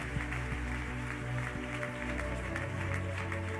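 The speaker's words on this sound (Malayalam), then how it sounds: "ഒന്ന് കൈയടിച്ച്" A church audience claps hands together in a dense, sustained round of applause, with steady tones and faint voices underneath.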